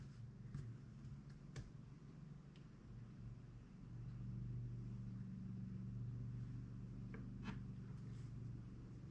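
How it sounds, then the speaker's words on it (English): A tractor's low engine rumble drones steadily in the distance outside, growing slightly heavier partway through, with a few faint clicks and no talking. "He's on my tractor."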